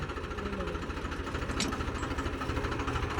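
A tractor engine runs steadily with a low, rhythmic thudding idle, close and continuous, with a brief clatter partway through.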